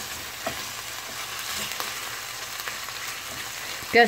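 Beef for a sauté sizzles and fries steadily in a pan, a soft continuous crackle with light stirring scrapes and a brief clunk near the end.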